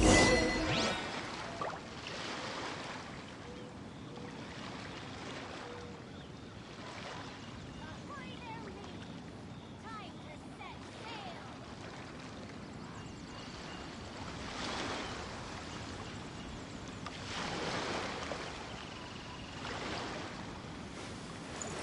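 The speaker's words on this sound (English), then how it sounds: "The sound of the ocean waves." Ocean waves wash in a Genshin Impact game scene, a steady hiss of surf and wind with several slow swells rising and falling across the stretch.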